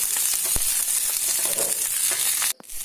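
Cluster beans fry in a little oil for a spicy green chilli chutney, giving a steady close sizzle with a few soft stirring scrapes that cuts off abruptly at the end.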